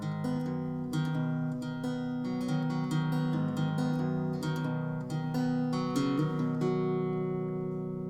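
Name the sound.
guitar playing intro of a song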